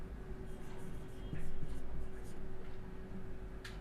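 Pen or marker writing on a map during a geography lesson, several short scratchy strokes close by with a faint background hum, a voice briefly speaking alongside.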